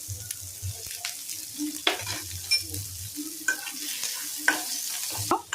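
Capsicum and vegetable manchurian fry in a pan, a low steady sizzle under intermittent scraping and clinking of a spatula being stirred, close and fairly quiet with no voices.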